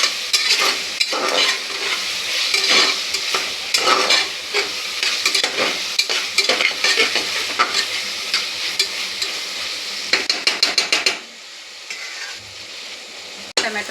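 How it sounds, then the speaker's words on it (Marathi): Finely crushed ginger garlic paste fries in hot oil with a loud, close sizzle. Rapid spoon scraping and stirring runs throughout, and a quick burst of clinks comes just before the sound cuts off, with no talk. "ही चांगली आपण तेलामध्ये फ्राय करून घेऊ"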